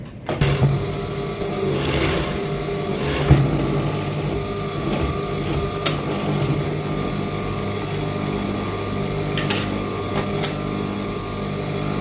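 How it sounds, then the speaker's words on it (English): A cover stitch sewing machine runs a seam on a cotton boxer with an external elastic band, giving a steady, close mechanical whirr that hums on without pause, with a few light clicks along the way. "I'll also run cover stitch on it"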